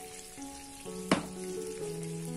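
Gnocchi frying in a pan, producing a steady soft sizzle with a single sharp knock partway through, fairly close and calm with steady tones droning underneath.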